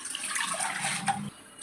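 Water runs and splashes steadily into a cooking pot for idiyappam dough, a continuous close pour lasting about a second and a half before tapering off.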